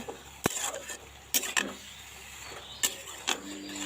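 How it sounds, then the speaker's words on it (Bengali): Ash gourd leaves being stirred in a pan in a village kitchen: a handful of scraping knocks and brief clatters, loud and close, separated by a soft steady background with no talk. "শাকটা এখন নরম হয়ে গেছে ভালো করে নেড়ে ছেড়ে নিচ্ছি"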